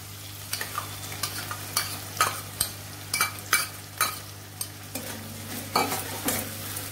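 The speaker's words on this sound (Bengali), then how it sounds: "এবার আমি এর মধ্যে দিয়ে দিচ্ছি একটা বাটা মশলা যার মধ্যে রয়েছে কাজু পোস্ত কাঁচা লঙ্কা একটু আদা" Cashew, poppy seed, green chili and ginger paste frying in oil, with a steady sizzle and repeated scraping stirs of a spoon in the pan at a close distance.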